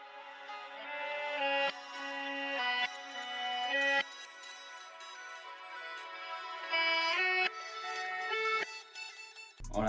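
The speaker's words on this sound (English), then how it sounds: "Now what I did for one of the guitar lines was I reversed it to give it a different effect." A reversed guitar line with effects swells and fades in sustained, shimmering tones, the notes blooming backward in several phrases at moderate volume without any talk.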